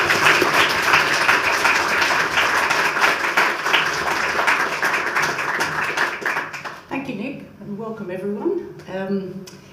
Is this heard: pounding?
no